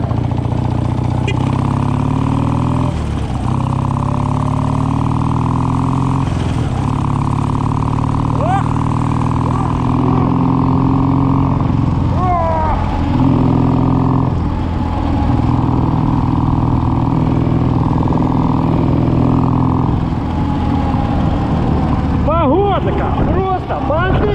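Vehicle engine running steadily during a ride, a continuous loud drone with shifting pitch, while people talk over it throughout.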